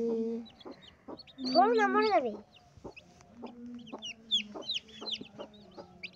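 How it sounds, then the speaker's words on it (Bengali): A hen clucking near newly hatched chicks, with a loud drawn-out hen call early on and high, thin peeps from the chicks scattered throughout, close by. "এই যে দেখো মুরগির বেবি হয়েছে।"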